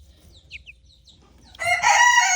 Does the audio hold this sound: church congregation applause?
no